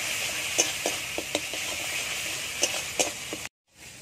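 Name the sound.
frying spice paste with tomato, whole chili and cumin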